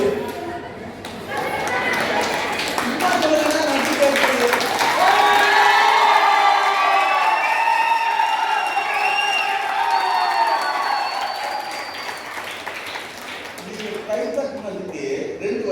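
Audience at a sales training and promotional program cheers and claps, a crowd roar with shouting voices that swells in the middle and tapers off toward the end.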